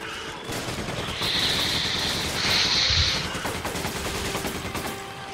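Rapid bursts of gunfire ring out in Resident Evil 5, a dense volley of loud shots with a couple of sustained blasts and a heavier boom near the middle, no talking.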